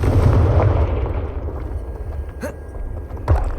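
Fire spell blast in Hogwarts Legacy on PS5, loud rumbling explosion opening the clip and decaying into a low roar, with sharper pops around the middle and near the end.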